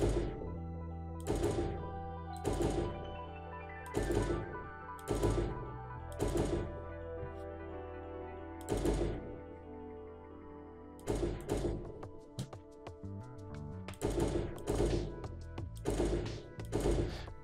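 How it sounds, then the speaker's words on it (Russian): A Logitech G403 Hero gaming mouse gives sharp double clicks, close and loud, in paired bursts at irregular intervals over steady background music. "Давайте попробуем сделать двойной клик."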